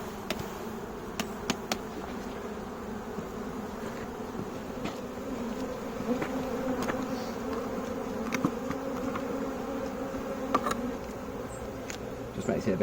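Honey bees buzz continuously during a beehive inspection, a dense close swarm drone with sharp taps and knocks of equipment scattered through it.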